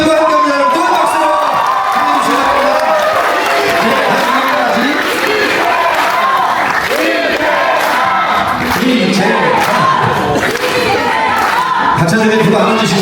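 A large crowd at an outdoor Democratic Party political talk show in Gyeonggi Province roars continuously, with cheering, shouting and clapping blended into a loud, unbroken swell lasting about thirteen seconds, voices rising through it.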